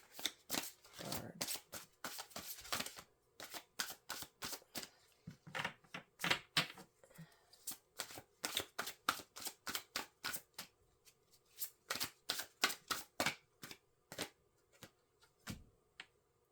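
Psychic Tarot Oracle cards being shuffled in quick, crisp bursts of riffling flicks and taps, close and steady, with brief pauses between runs and no voices.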